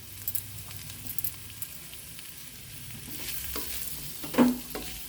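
Chopped mint, coriander and salt fry and crackle in a pan for vermicelli pulav, a quiet close sizzle with a few scraping stirs and one louder clatter near the end.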